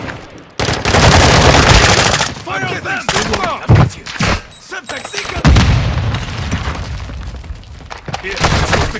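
Heavy automatic gunfire and thudding blasts roar through a video game firefight, dense and loud for most of the stretch with brief dips, while voices shout over the shooting.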